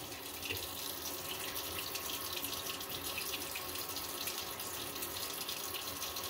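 Tap water runs steadily into a sink as someone wets their face for shaving, a continuous close hiss and splash with no talk.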